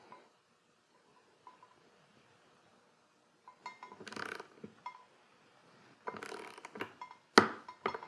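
Wrench torquing nylock nuts on the front engine mounts of a Mercedes 560SL, heard as quiet metallic clicks, ratcheting and clinks in irregular bursts, louder toward the end, with near-silent gaps between them.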